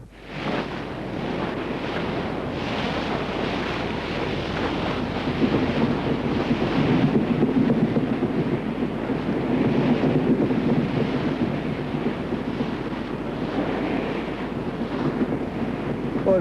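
Stormy wind and sea waves in gale conditions, a steady loud roar of wind buffeting the microphone over crashing surf, continuous for the whole stretch with no talk.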